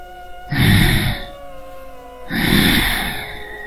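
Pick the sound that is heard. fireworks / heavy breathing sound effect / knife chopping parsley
heavy breathing sound effect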